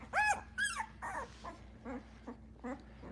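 One-week-old Boerboel puppies whimper and squeal in a series of short, high, wavering cries, close by with brief pauses between them.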